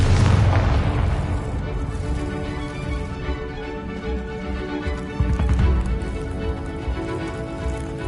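In Hogwarts Legacy, a Confringo fire spell explodes in a loud, deep rumbling boom that rolls on with dense crackling debris for several seconds.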